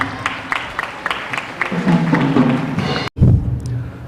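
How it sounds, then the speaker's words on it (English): Applause from students and teachers at a school Teachers' Day celebration, a scattered round of clapping that builds and then breaks off abruptly, with faint crowd murmur beneath it. "shall we invite him with a huge round of applause?"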